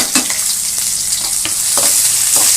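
Onions, green chilies and curry leaves hit hot oil in a pan for brinjal kosthu, bursting into a loud steady sizzle with scraping stirs recurring every half second or so.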